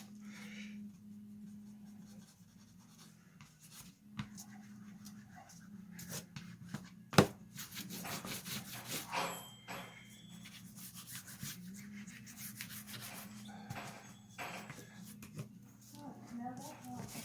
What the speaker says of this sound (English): all of this rubbing and bone foldering